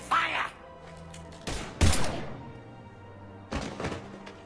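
A Mass Effect 3 firefight brings a few heavy, booming gunshots and thuds in separate bursts, loud and close, with a brief pause between volleys.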